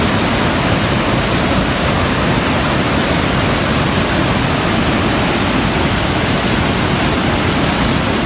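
Pine Creek, a flowing mountain creek, gives a loud, steady, close rush of water that holds unchanged throughout, with no voices.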